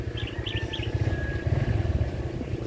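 A bird chirps in short repeated high calls at the start, fairly clear above a constant low rumble of a running vehicle engine, with no talk.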